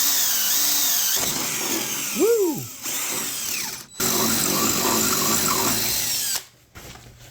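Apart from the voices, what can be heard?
power drill milling with the side of a drill bit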